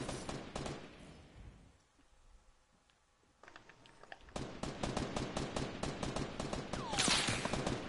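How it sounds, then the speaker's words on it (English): Fortnite gunfire, rapid trains of sharp shots near and loud, fading to a quiet lull before resuming in fast, steady automatic bursts. "I'm getting shot."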